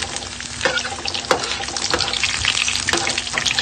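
Garlic fries in oil in a pan while cooking chicken adobo, a steady close sizzle with crackles and scraping stirs throughout.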